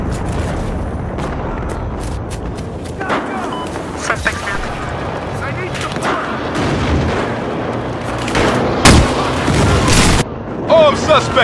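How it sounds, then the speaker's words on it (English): An explosive charge detonates in the video game Battlefield Hardline, with a dense rumbling blast and a sharp burst amid continuous loud gunfire and game noise. "Charge detonated!"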